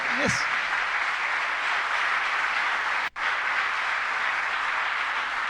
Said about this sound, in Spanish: Le aplaudamos a él